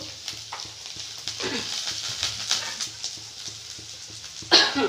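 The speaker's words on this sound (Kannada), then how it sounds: "ತೊಂಡೆಕಾಯಿ ಎಲ್ಲ ಚೆಂದಾಗಿ ಫ್ರೈ ಆಗಬೇಕು" Ivy gourd (tondekai) fries in a pan with a soft, steady sizzle and occasional stirring clinks, ending in a brief sharper hiss.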